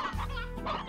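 A chicken in the Slime Rancher video game gives a short, close clucking call with a brief throaty burst, heard alone.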